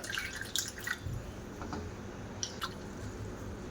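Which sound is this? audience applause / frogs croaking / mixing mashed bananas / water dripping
water dripping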